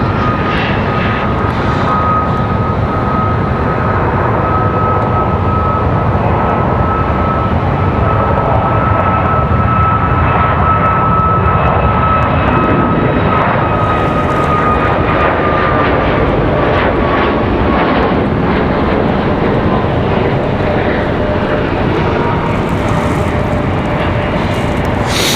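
Frontier jet airliner departing for Miami, a loud, steady broadband engine roar with a sustained whine, continuous and close throughout.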